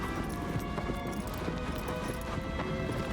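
A horse's hooves clip-clopping in the video game Shadow of the Colossus (2018 remake), a steady trotting rhythm of hoofbeats over game ambience.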